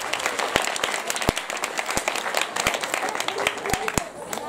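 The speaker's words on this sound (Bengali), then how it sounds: "যারা ছাত্র আছো জোরে হাততালি দাও" Students clap after a dance performance at Goghat High School, a steady scattered applause with sharp individual claps standing out, under a spoken voice.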